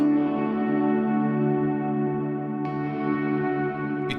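A single sustained electric guitar note rings with delayed ambient reverb blooming after the pick attack, followed by a light second pluck near the end, clean and alone.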